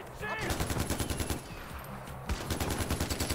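Rapid bursts of automatic gunfire in the video game Far Cry 4, fired at the player, crackle loud and steady in a repeating rhythm for several seconds, broken by a brief gap, with a voice speaking over it.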